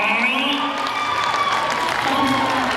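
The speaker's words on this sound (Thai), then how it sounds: "ขอสิบปรบมือให้ผู้จัดหน่อย" A gala crowd applauds the producer of a Thai film with loud, continuous clapping and cheering, while voices ring out over the top.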